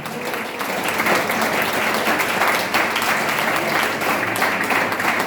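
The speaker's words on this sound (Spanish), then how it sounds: "Aplaudan si le va a aplaudir al Señor" Steady, dense applause from a church congregation fills the space, a continuous wash of many hands clapping at even loudness throughout with no pauses.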